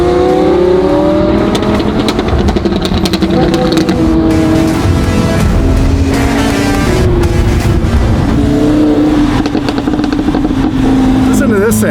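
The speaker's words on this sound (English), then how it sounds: "Listen to this thing. Makes the weirdest noises, McLaren's." A McLaren P1 supercar engine revs loudly and repeatedly, with rising and falling whines and a constant roar up close, while people talk over it.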